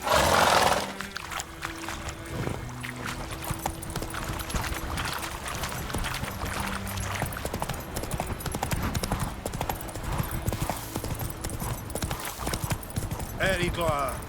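Horse hooves clip-clop steadily through a game world in The Witcher 3: Wild Hunt, close and continuous beneath game music and a voice speaking over it.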